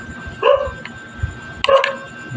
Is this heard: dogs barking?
yes